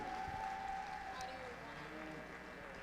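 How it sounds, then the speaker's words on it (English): Applause from the audience at a youth fair beef heifer show for five senior showmen, a moderate, steady patter of clapping heard from a distance. "let's give one more big round of applause to these 5 senior showmen"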